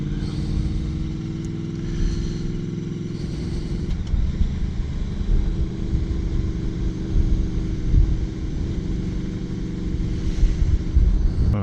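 A sport motorcycle engine drones continuously while riding, a loud, close rumble that shifts in pitch as the rider downshifts, with wind noise over it and no talking.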